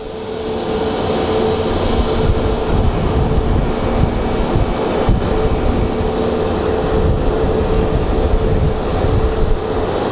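Aircraft at Phoenix Sky Harbor International Airport (KPHX) producing a steady, loud engine roar that fills the whole stretch without a break, with no voices over it.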